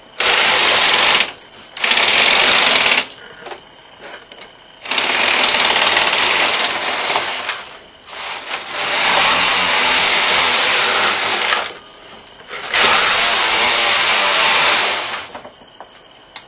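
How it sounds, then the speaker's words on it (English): A Brother knitting machine with a garter carriage works across the needles in several long, loud mechanical passes, each a steady whirring, ratcheting clatter lasting two to four seconds, separated by short quiet gaps. "Hold the comb and just slowly knit over all the needles."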